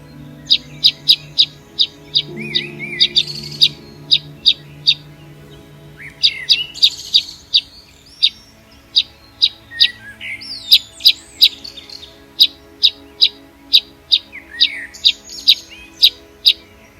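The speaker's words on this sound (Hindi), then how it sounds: "बाया पक्षी को अंग्रेजी में बाया वीवर कहते हैं।" Baya weavers chirp in a dense, steady run of sharp, high repeated calls, with a softer warbling chatter mixed in. The calls are close and loud, and no voices are heard.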